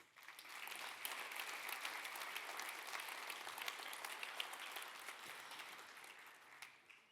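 A large audience at a Geneva anniversary event for the Refugee Convention claps steadily, individual sharp claps distinct within a faint, sustained roll that tapers off near the end.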